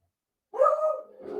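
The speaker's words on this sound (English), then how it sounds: "My dogs are going crazy." A dog gives one loud, close, excited bark that trails into a strained whine, part of dogs reacting to a cat they have never seen before.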